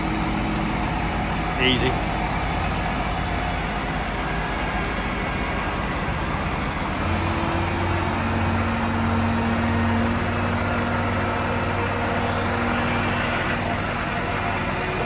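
A Claas machine's engine runs steadily at a low idle-like drone as it climbs a trailer ramp, constant and close, with someone speaking briefly over it.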